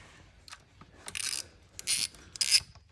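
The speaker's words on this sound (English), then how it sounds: "And we'll get this bolt tightened up." Socket wrench ratcheting as a 10mm bolt is tightened on aftermarket rearsets of a Honda Grom motorcycle, three short bursts of close, crisp clicking after a few faint taps, with no talk.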